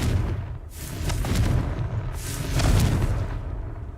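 Deep booming blasts of the Confringo spell in Hogwarts Legacy, two or three heavy rumbling explosions rolling into each other at close range, with no one speaking.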